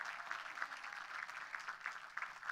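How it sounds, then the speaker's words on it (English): Faint, somewhat distant applause at a graduation ceremony for CUNY Chancellor Felix Matos Rodriguez, a continuous patter of many hands with slight surges. "One more time, a round of applause for our Chancellor of CUNY, Felix Matos Rodriguez."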